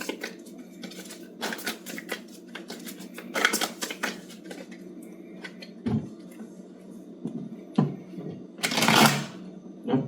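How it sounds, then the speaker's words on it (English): Tarot cards are shuffled in clattering bursts of riffling and tapping, close and irregular, with a longer flurry near the end and quiet gaps between. "Could just be bad shuffling"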